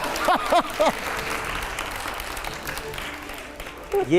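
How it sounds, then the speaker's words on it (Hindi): Studio audience at a Hindi TV news debate with politician Manoj Tiwari breaks into steady, loud applause that continues throughout, with a host's voice briefly heard over the clapping at the start and end. "जोरदार तालियां हो जाए एक बार।"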